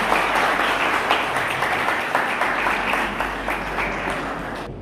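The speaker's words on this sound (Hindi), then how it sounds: "तो एक बार उनका भी तालियां बजाकर स्वागत करें" A school audience at an NCB drug-awareness program claps loudly to welcome a journalist, a full, dense round of applause that holds steady and tapers slightly at the end.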